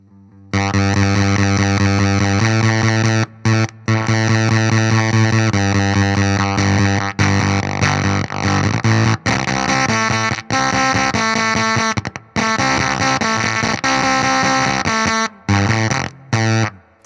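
EHX Ripped Speaker fuzz pedal with fuzz and rip turned all the way up, giving a loud, heavily distorted, sputtering guitar tone with chords that cut out abruptly into gaps and jump back in repeatedly.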